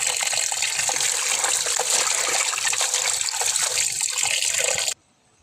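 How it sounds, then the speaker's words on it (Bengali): Pumpkin leaves are rinsed under a strong stream of running tap water, a loud continuous splashing wash that cuts off abruptly near the end. "পাতাগুলো ভালো করে ধুয়ে"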